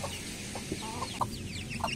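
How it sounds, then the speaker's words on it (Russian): Araucana-cross hen clucking in short, irregular bursts, several soft calls close to the listener over a constant low hum. "Она очень хорошая, как бы, курица."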